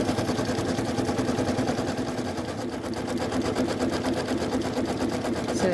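A Janome sewing machine stitches decorative snowflake patterns, its rapid, steady mechanical whir running loud and close without pause, with no talking.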